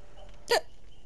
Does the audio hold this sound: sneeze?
yes